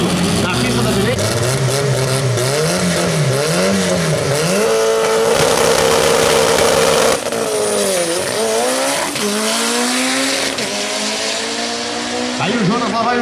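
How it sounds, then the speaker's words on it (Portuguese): Drag race run at a 201 m strip: a rear-wheel-drive Chevette with a Brazilian Opala 4-cylinder turbo engine accelerates hard, its loud, close engine note rising and falling through gear changes, with tire noise and an announcer talking over it. "vem na pista da esquerda o Chevette com motor Opala, 4 cilindros brasileiro com Brian Gabardo."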